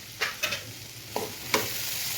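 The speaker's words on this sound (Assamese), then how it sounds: "এনেদৰে মই শুকানকৈ অকণমান সময় ভাজিম।" Vegetables and spices being stir-fried dry in a pan for chowmein, with a soft continuous sizzle under five sharp scrapes and clacks of a spatula, spaced irregularly.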